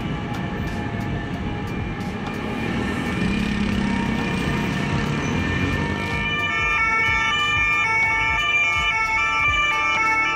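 An ambulance siren wails loud and close as the ambulance moves with a police escort. Heavy traffic roars underneath, and a second, steady siren tone joins partway through.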